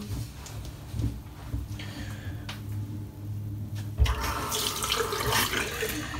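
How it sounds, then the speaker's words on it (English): Hot water runs from a tap to rinse shaving soap, a continuous splashing stream that grows louder and brighter partway through, with a faint knock as the flow changes. "Soap rinses really quickly, just a little bit of hot water, rinse it over, and that's it, rinsed."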